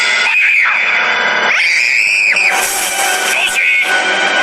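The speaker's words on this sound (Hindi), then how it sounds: "एक रात अचानक उन्होंने जीन की चीखें सुनी" A girl screams in a horror story sound effect, several long, loud, piercing wails that rise and break off in rough bursts, very close and filling the whole stretch with no talk over them.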